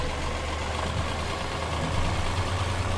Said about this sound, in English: what we need to do is get into the John Deere, which is just here. Lovely tractor.